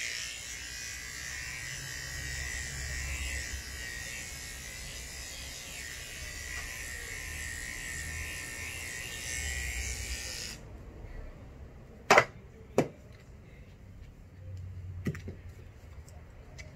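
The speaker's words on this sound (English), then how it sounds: "And then down with your clippers." Electric hair clippers trimming hair give a close, steady motor buzz that runs for about ten seconds, then cuts off, leaving a quieter background and a few sharp clicks.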